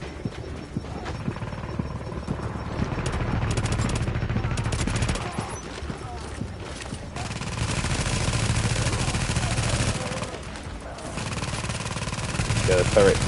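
A deployed turret fires during a firefight in The Division, its rapid bursts rattling loudly and almost continuously over dense battle noise for about thirteen seconds.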